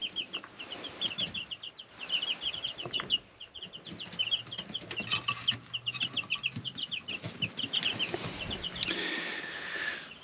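Backyard hens cluck in quick repeated bursts near chicken wire, with wing flaps and rustling around them; a busy, fairly close flock without talk.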